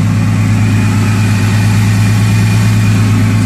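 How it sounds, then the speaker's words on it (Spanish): A 1956 Ford F100 pickup with a six-cylinder engine idles steadily and loudly up close, a constant low rumble with no talking. "Vamos a escuchar su motor."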